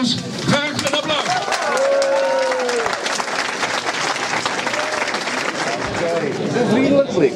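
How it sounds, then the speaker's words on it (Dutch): Sustained, loud applause from a crowd at a reception, steady broadband clapping lasting several seconds, with voices and cheerful chatter rising over it throughout. "Dames en heren, voor deze kanjers graag een applaus"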